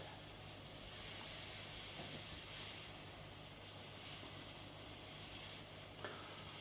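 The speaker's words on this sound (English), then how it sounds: "Just need to get some steam in there" Steam hissing under a tea towel while loosening frets on a Vintage V100-AW Les Paul guitar, a soft continuous hiss with faint sizzling, steady throughout with no talking.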